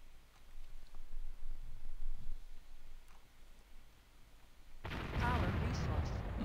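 A unit in the strategy game Warzone is scuttled and blows up in a sudden loud explosion near the end, after a stretch of quiet background hum.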